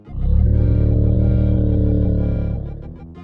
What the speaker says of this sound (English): Its snores can sound similar to its cries, which, well, they sound like this.